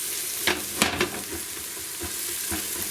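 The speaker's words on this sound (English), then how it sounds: "keep stirring it, keep frying it so the fragrance comes out from the" Spices frying and being stirred in a pan for chicken masala, a steady close sizzle with a few sharp scraping stir strokes early on and softer ones near the end.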